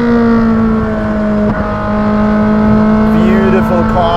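A Ferrari 458 Speciale fitted with a Novitec exhaust, on an open road, holds a loud, steady, droning engine note that swells slightly toward the end.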